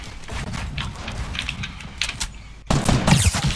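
Gunfire in the Fortnite battle royale video game, a run of rapid shots that gets noticeably louder and denser in the last second, with no talking.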